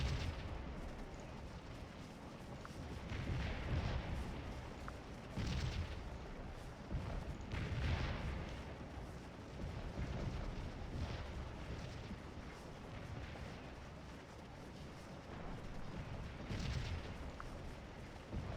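Cannon artillery fire from Scourge of War Gettysburg, a Civil War strategy game: repeated deep booms at irregular intervals over a steady rumbling battle bed, moderately loud and continuous throughout.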